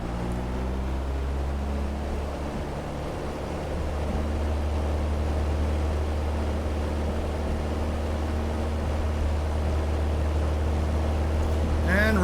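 Piper Cherokee light aircraft engine in a flight simulator during the takeoff roll, a steady low droning hum with a slight rise in intensity partway through, continuous and fairly loud.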